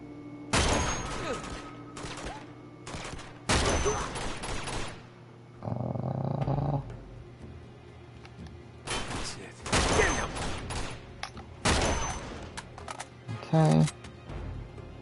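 Bursts of gunfire from the video game Uncharted 2, loud volleys in several separate clusters with gaps between, heard alongside someone talking over the gameplay.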